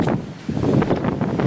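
Strong wind on a Visakhapatnam beach buffets the microphone in loud, continuous rumbling gusts, with a brief lull before it surges again.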